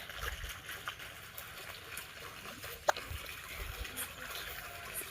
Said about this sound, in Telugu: నీళ్ళు వేస్ట్గా పోతున్నాయి